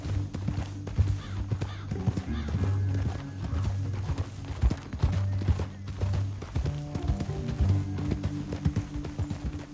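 In the video game Red Dead Redemption 2, hooves clip-clop in a fast, rhythmic gallop with a low rumble beneath, several horses running close by and steady throughout.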